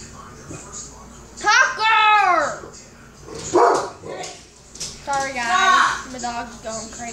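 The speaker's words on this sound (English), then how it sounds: "dog's going crazy." Small dog barking in repeated yapping bursts close by, mixed with someone talking excitedly during Roblox play at home.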